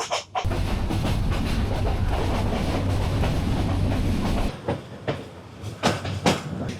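Kalni Express passenger train running on rails, a loud steady rumble with rhythmic clatter heard from inside, then the roar drops away into quieter irregular clacks and knocks near the end.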